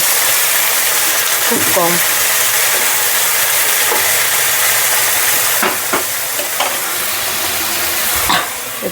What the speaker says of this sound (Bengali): মাছটা দেওয়ার পর একটু সামান্য জলের ছিটা দিয়ে দেবো, যাতে মাছটা একটু সেদ্ধ হয়ে যায়